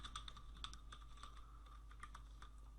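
Fingers type on a computer keyboard in quick, irregular bursts of clicky keystrokes, faint but close.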